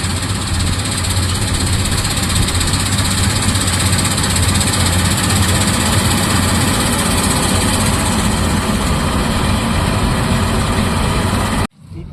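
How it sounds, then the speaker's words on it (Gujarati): A tractor-driven fodder cutter runs with a loud, steady engine drone and low rumble, then cuts off abruptly right at the end. "કટર ચાલુ કરી દીધું છે"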